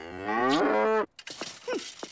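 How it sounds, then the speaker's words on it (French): A cow lets out a single long, loud moo up close, followed by a brief quieter grunt-like call, with no other sounds. "Une vache de compagnie."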